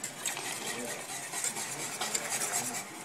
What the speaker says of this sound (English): So you stir it very well.